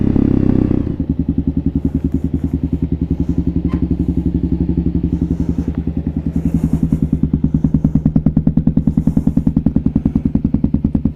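A warmed-up Kawasaki KLR650 motorcycle idles close by with a steady, even thumping beat after a brief louder start, with light mechanical clatter over the rhythm.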